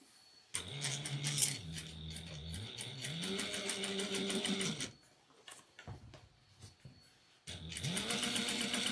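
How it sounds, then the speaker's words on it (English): Sewing machine top stitching a shoulder bag, a fast, even mechanical rattle running in two long bursts with a short quiet pause and rustling between them. "We're going to top stitch at 1/8 of an inch."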